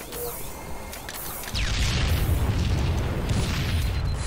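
Grenade explosion in Halo 3 multiplayer, a sudden deep boom that sets off a sustained loud rumble, with some faint background game noise before it.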